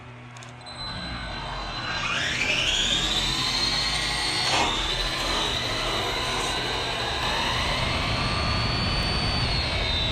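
Kaiju EXT RC car's brushless motor winding up hard in a drag start, a rising high-pitched whine that sweeps upward over a couple of seconds and then holds steady and loud to the end.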